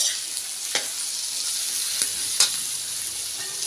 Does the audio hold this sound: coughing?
no